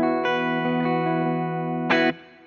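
A clean electric guitar tone plays through an Orange 2x12 cabinet with reverb. A sustained chord rings out, and a bright strum near the end cuts off quickly.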